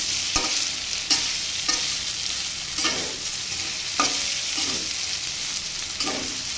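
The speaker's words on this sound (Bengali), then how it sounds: "এটা কিন্তু কষানো হয়ে গিয়েছে, মশলা থেকে তেল ছেড়ে দিয়েছে।" Eggplant and raw banana frying in a pan with sesame paste and nigella seeds, a steady close sizzle broken by regular stirring scrapes about once a second, with no voices.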